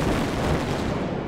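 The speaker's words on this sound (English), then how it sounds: "causing a massive explosion" A massive storage tank explosion set off when a static spark ignites a vapor-air mixture, a dense, sustained roaring blast rumble that stays loud and broadband throughout.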